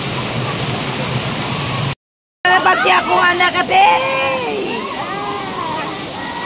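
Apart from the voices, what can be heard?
strong pressure of waterfall water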